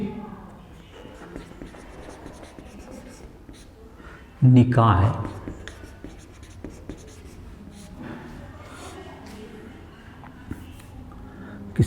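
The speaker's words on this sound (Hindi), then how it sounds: "चलो इस नियम को लिखते हैं हम लोग।" Marker or chalk writing on a classroom board during a physics lesson, quick scratchy strokes with one loud burst of scribbling, heard under a teacher's ongoing speech.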